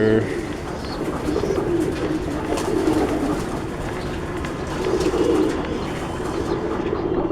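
Pigeons coo in a homemade breeding loft, their low, throaty calls rising in rolling bursts throughout, steady and close, with faint background noise.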